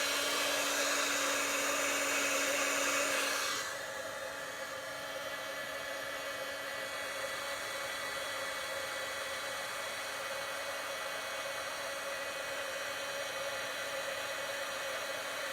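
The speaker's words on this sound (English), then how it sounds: "Just talk amongst yourselves while I use the heat gun." A heat gun blowing hot air for embossing stamped crafts, a steady loud whooshing whir that drops to a lower, gentler hum after a few seconds and then continues evenly with no talk.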